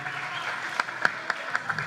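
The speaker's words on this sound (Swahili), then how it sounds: "makofi mengi sana kwake" At a Simba supporters' election meeting, the crowd applauds the guest of honour: a soft, fairly faint patter of clapping with a handful of sharper, louder claps standing out near the end.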